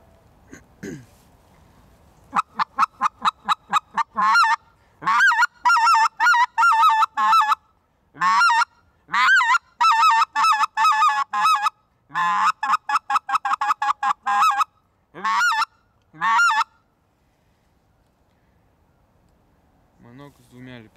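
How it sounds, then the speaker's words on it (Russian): A Riceland Custom Calls single-reed duck call blown in rapid bursts of raspy quacks, loud and close, in rhythmic series separated by short pauses. "Манок с одним лепестком."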